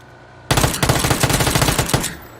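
Automatic gunfire from an AK and an Uzi in a video game erupts as one loud, rapid burst of close shots lasting about a second and a half, then stops abruptly with no voices over it.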